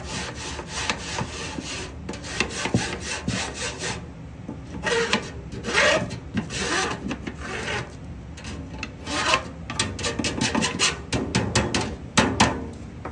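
Rubber mix being worked to break up clumps, a steady run of scraping, rasping strokes in quick irregular bursts, close and fairly loud, with no talking.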